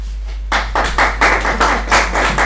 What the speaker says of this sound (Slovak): od vas jedan aplauz koji ste za ovo